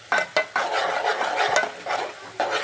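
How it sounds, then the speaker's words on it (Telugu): Ginger paste being stirred into onions in a pan for an egg curry, close scraping strokes of a utensil against the pan in an uneven rhythm over a light sizzle, with no talking. "కొద్దిగా అల్లం పేస్ట్ వేసుకుందాం, కలుపుకోవాలి."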